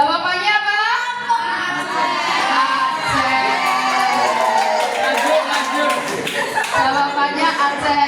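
Crowd of children and adults clapping and cheering throughout at an Indonesian Independence Day quiz celebration, lively sustained applause with shouts and chatter mixed in.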